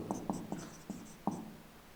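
Marker or chalk writing on a board during a geography lesson, with a handful of quick, faint taps and strokes in an uneven rhythm, no talking.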